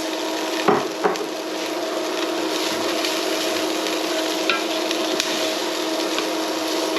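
Carrots and celery sweat in a frying pan as a base for a steak and cheese pie filling, a steady soft sizzle with a couple of wooden stirring knocks near the start.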